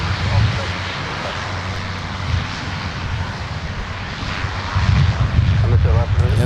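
A classic regional airliner in Mesaba Airlines' red Northwest Airlink livery roars past at MSP airport, a loud, steady engine rumble that swells toward the end while people talk over it.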